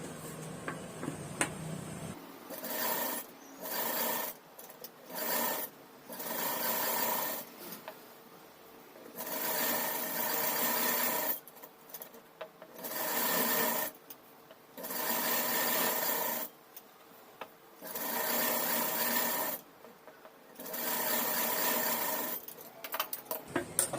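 A sewing machine runs in repeated bursts stitching blouse cloth, each stretch of steady rattling whir lasting a couple of seconds and separated by brief pauses, close and alone with no talk.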